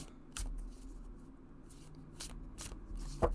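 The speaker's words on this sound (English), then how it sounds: "Do the rifle shuffle." Quiet, close riffle shuffling of bendy oracle cards, a few brisk papery riffles and bursts of flutter, ending in a short snap, with no voices.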